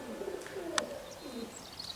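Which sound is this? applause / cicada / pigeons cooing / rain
pigeons cooing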